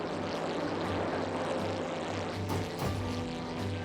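A propeller airplane engine throttles up in the video game The Brew Barons, a loud, steady droning hum with a pulsing low throb, heard alone without talk.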